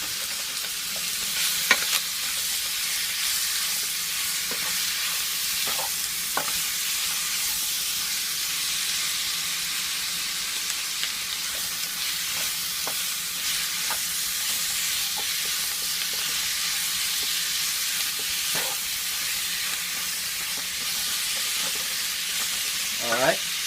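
Onion wedges sizzle steadily in a pan for a chicken curry, with the constant frying hiss broken now and then by soft scrapes and clinks from stirring; no voices.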